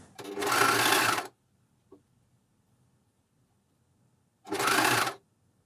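Juki MCS1500 coverstitch machine sewing elastic onto knickers, two loud steady bursts of machine running separated by a few seconds of near silence with a faint click.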